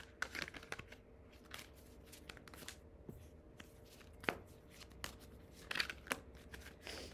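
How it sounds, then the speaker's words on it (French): Tarot cards are shuffled by hand in a quiet room, giving soft, faint, irregular riffling and flicking with a few sharper snaps. "Je prends une carte."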